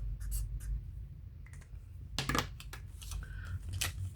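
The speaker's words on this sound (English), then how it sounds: "Gotta write that down." A pen scratches out a number on paper in short, close, irregular strokes, with small clicks and rustles between the bursts of writing.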